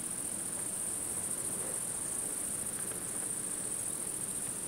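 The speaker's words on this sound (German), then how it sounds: "Also es sind so viele Grillen da und das ist so toll, wenn man einfach mal stehen bleibt und das hört." Many crickets on the island of Brač chirp in a dense, unbroken high trill, steady and even throughout with no voices.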